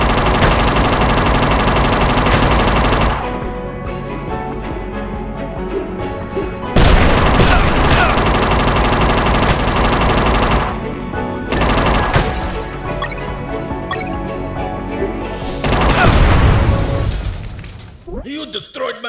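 Machine gun fire in UnMetal rattles in long, loud sustained bursts with shattering impacts, broken by brief pauses, while a voice speaks over the gunfire.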